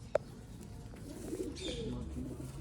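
A pigeon coos softly from a breeder's loft, a faint low murmur with one sharp click near the start, set against quiet background noise.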